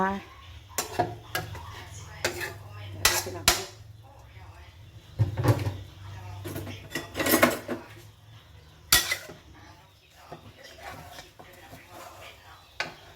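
A cooking pot and metal utensils clatter in a rural Thai home kitchen, with scattered sharp knocks and clanks spread across the passage while someone talks over them.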